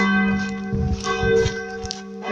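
Swinging church bells ring out from a parish church in Frankenthal near Bischofswerda, loud sustained tones overlapping with repeated strikes and a long humming decay, with no talking.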